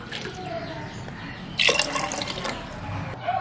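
Water poured into a pressure cooker pot over soaked rice, a soft splashing trickle that swells into a brighter gush midway, close and fairly quiet with no talk.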